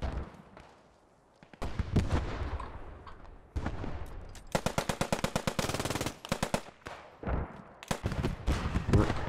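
Rapid machine-gun bursts and scattered single shots crack repeatedly in a Post Scriptum battle, with long rattling strings of fire mixed with sharper nearby reports and no voices.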